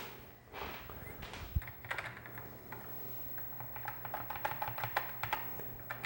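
Keys pressed one after another on a Commodore SX-64 keyboard, a quiet run of plastic clicks and taps that grows busier and quicker toward the end, close and faint with low hum behind.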